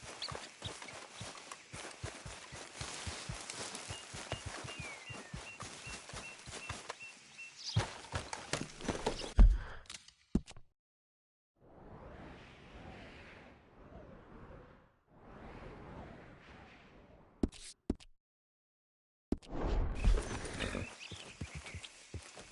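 Hooves of a horse in the video game Red Dead Redemption 2 clip-clop at a steady walking pace, loud and close, broken by a few quiet gaps and brief swishes.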